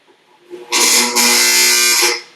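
A homemade loudspeaker vibrates with a loud, harsh electric buzz lasting about a second and a half, briefly dipping midway before stopping abruptly.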